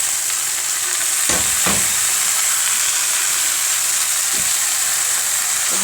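Tomatoes, onion and a chili pepper hit a hot pan with dry, browned trotters, giving a steady loud broadband sizzle throughout, with a few brief stirring scrapes near the start and later.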